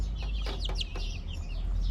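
Chickens, including an Indian rooster kept inside with hens and chicks, give a few short, close clucks over a low, steady background hum.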